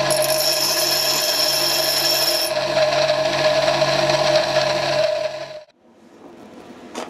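A tool and cutter grinder grinding a screw cutting tool gives a steady, loud, high grinding whine with a bright ringing tone for about five seconds, then stops abruptly, leaving quiet workshop background.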